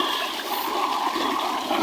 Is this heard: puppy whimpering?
no